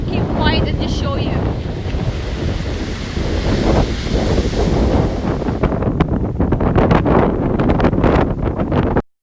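Strong wind buffets the microphone in a loud, continuous roar over crashing ocean surf on a Maldives shore, with the gusts surging and easing and then cutting off abruptly at the end.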